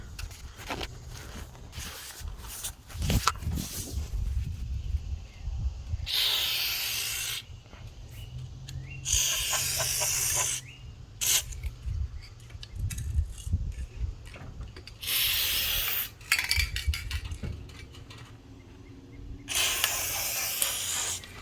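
Lubricant is sprayed onto a stiff-moving bus window in four separate hissing bursts of a few seconds each, with quieter clicks and handling noises between them.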